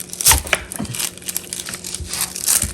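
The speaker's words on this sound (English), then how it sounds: "So I'm gonna go ahead and cut half of this onion." A knife cuts through a red onion on a cutting board in a home kitchen, giving a few close, crisp crunches and crackles over about three seconds, with no talking.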